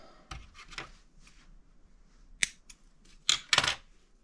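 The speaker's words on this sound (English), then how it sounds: "So it's just one loop on the end, and I'll cut that tag end off." Fishing line tag end being snipped off after tying a loop, heard as a few sharp, close clicks and snips with quiet pauses between them, with no talking.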